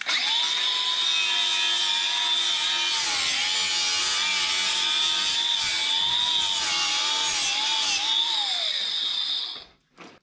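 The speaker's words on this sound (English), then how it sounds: "you hold the grinder with a cutoff blade on it, very thin, just hold it and rotate the pipe into it" An angle grinder fitted with a very thin cutoff blade cuts through pipe as the pipe is rotated into it. The close, loud, steady whine holds for about nine seconds, its pitch dipping slightly under load, before spinning down.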